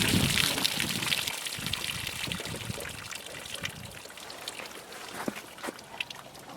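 Water gushes and trickles steadily from an uncapped plastic jug, an improvised bullet-test target, splashing continuously and fairly close for several seconds.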